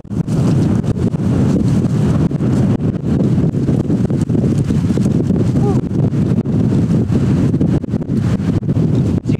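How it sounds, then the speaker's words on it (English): Strong wind roars and buffets the microphone nonstop at a tepee campsite in below-freezing weather, loud and close, with a person speaking faintly beneath the gusts. "As you can tell, the wind's picking up quite a bit."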